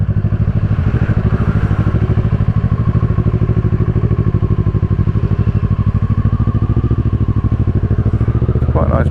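A motorcycle engine runs close and loud during a ride in New Zealand, a steady rapid pulsing throb with rattling clatter that holds unbroken throughout.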